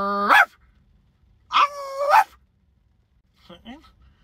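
A man imitates a dog, giving two loud barks followed by a softer yelp, with silent gaps between them.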